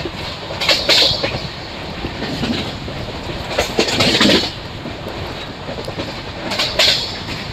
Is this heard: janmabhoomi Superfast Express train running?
yes